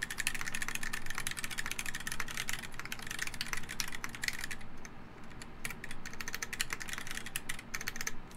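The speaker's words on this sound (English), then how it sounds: "Maybe I'll do it for the typing sounds." Rapid, continuous clicking from typing on a black X60 mechanical keyboard, fast and even keystrokes heard alone at a low level with no voices.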